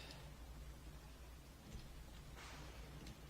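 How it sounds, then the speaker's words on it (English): Rain falling in the survival video game Don't Starve, a steady soft hiss of downpour with brief louder swells and a faint low rumble, heard alone without talk. "we're really getting rained on here."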